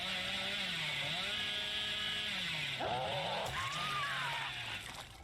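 The Hillbilly's chainsaw in Dead by Daylight revs in a continuous buzzing drone that rises and falls in pitch, loud and steady throughout with a brief surge near the end.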